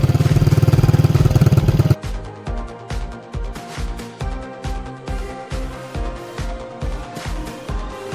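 A Bajaj CT 100 motorcycle with a damaged silencer and no decibel killer roars loudly for two seconds, then settles into a rough, loud, pulsing idle with regular throbbing beats close by.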